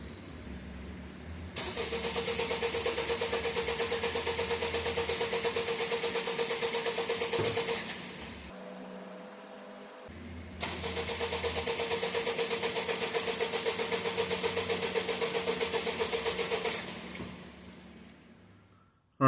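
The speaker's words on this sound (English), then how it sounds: "So let's see what it looks like just cranking." A Honda car engine cranks with a rapid rhythmic starter whir for several seconds, pauses, then cranks again at length during a cold start, loud and close with no talking.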